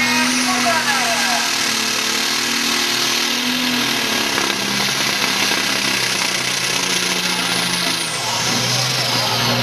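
Pro Stock drag racing car engine running at the Lendinara 2009 Italian championship final, a steady droning roar that carries throughout beneath continuous announcer commentary.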